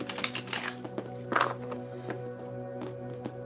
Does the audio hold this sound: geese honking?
no